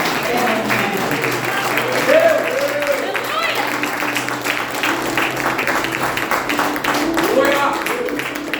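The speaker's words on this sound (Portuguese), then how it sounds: "E aplauda o Senhor bem forte que você merece." A church congregation applauding loudly during a family worship service, dense sustained clapping with voices calling out over it throughout.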